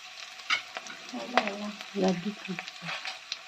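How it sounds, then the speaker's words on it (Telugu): Curry leaves crackle and fry in a pan of hot oil for a village-style chicken curry, a soft sizzle with irregular pops and spoon scrapes, close and moderately quiet, no talking. "ఇలాగా కరివేపాకు కొద్దిగా చిట్టుపట్లాడిన తర్వాత ఇప్పుడు మనం ఉడికి పెట్టుకున్న చికెన్ వేసుకోవాలి"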